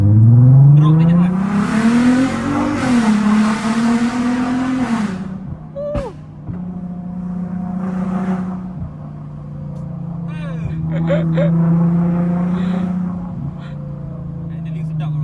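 Heavily modified Volkswagen Golf R32 on a highway, its engine and exhaust roaring loudly as it accelerates hard through the gears, with pitch climbing, dropping at shifts, then settling into a steady drone; people talk over it.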